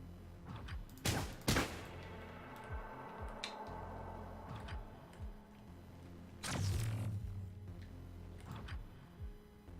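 Suppressed pistol shots in the video game Get Even: a few sharp, muffled cracks, the first two close together and then spaced apart, over a low ambient hum with faint clicks.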